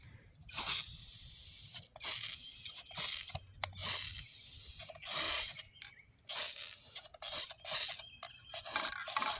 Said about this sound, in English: Alright, now time to clear coat this.